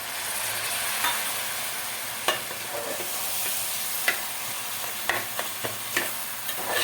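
Finely chopped tomato frying with pav bhaji masala in a pressure cooker pot for a cluster bean dish, a soft steady sizzle broken by several sharp scrapes and clinks of a stirring spoon.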